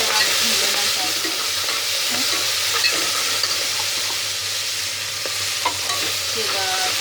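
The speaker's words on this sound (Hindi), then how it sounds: "ये धुली हुई मेथी डाल देना है इसमें। इसको अच्छी तरह भून लेना चाहिए।" Washed fenugreek leaves frying in a pan with garlic and two green chillies for kheema aloo methi, giving a steady, close sizzle with occasional scraping and stirring from a spoon, and no talking.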